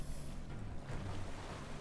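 Water rushes out after being released in Darksiders Warmastered Edition, a continuous washing roar that holds steady throughout with no speech.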